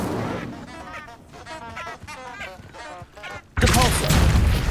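A fiery burst from the Incendio spell in the Hogwarts Legacy video game erupts loudly in the last second, after a stretch of quieter game chatter.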